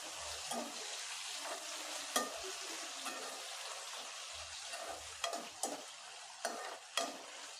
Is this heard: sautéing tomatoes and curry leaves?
yes